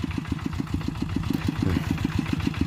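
A tractor engine runs in a rice field, chugging in a fast, even pulse throughout, loud and close, with no voices.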